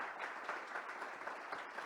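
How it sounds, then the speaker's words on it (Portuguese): An audience at a business breakfast applauds speaker Rui, a steady, dense patter of many hands clapping together, fairly distant and even throughout the short stretch. "Uma salva de palmas para o Rui"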